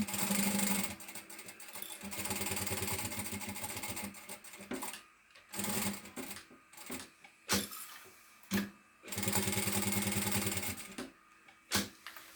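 A sewing machine stitches over an existing seam through foam on a shoulder bag, running in several bursts of fast, even whirring broken by short pauses, close and clear with no talking.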